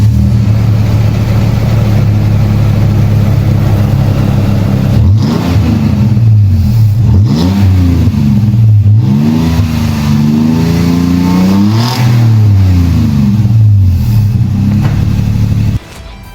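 Toyota Tacoma with a 4.0 V6 and a bolt-on aftermarket exhaust revs loudly, several rising and falling throttle blips over a steady idle rumble, close and alone, cutting off abruptly at the end.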